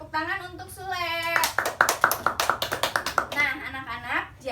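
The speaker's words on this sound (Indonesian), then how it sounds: "Tepuk tangan untuk Sule." Primary school pupils clap their hands for a classmate in a classroom, a quick rhythmic burst of sharp claps in the middle, framed by voices speaking before and after.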